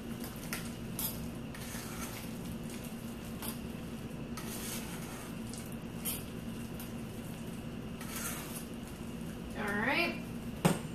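Avocado guacamole is stirred in a bowl with a utensil, producing quiet, intermittent scraping and clinking over a faint steady hum, with a louder knock at the end and a voice murmuring briefly.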